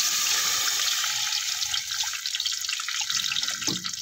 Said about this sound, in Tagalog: mainit na tubig ang ilalagay ko